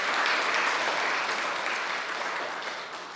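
An audience at a literary event applauds an author, giving a dense, steady round of clapping that fades gradually over a few seconds.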